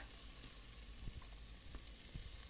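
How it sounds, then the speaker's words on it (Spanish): Onion and garlic fry in a pan while cooking a rice dish, giving a steady, close sizzle with faint crackles throughout and no talking. "freír cebolla y ajo"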